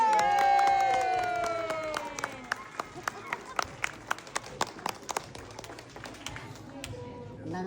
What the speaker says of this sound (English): One more big round of applause for these.